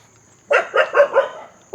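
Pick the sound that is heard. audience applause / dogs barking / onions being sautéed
dogs barking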